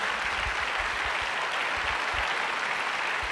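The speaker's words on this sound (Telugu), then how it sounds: "గట్టిగా చప్పట్లు కొట్టి వీరికి అభినందన తెలియజేయండి." A church audience applauds together, a dense, sustained wash of clapping at even loudness from start to finish.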